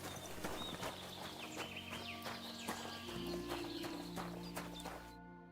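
A horse's hooves clip-clop in the video game Kingdom Come: Deliverance II, a quiet, even walking rhythm of distinct strikes over faint ambience, cutting off abruptly near the end.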